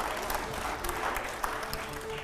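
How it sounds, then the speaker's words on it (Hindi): Studio audience applause at a televised debate show, a dense patter of many hands clapping at once, moderately loud and steady for a couple of seconds. "जोरदार तालियां हो जाए, दिखाइए जरा बेहतर प्रवक्ता कौन।"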